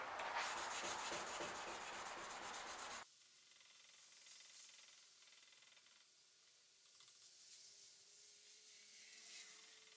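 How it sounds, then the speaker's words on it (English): Sanding the spine of a Damascus steel kitchen knife at 400 grit, a dense loud rasping rub for about three seconds that stops abruptly, followed by faint scattered scraping and handling sounds. "now I put the spine up, and I'm still at 400 grit, and I'm going to clean the spine all up"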